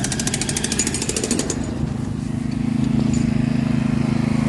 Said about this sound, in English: these boys just got the jackhammer out